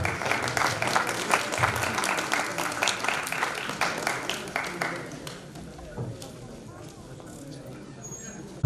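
Audience clapping at a drama festival in Prayagraj, dense and loud at first, then thinning and fading out over the last few seconds.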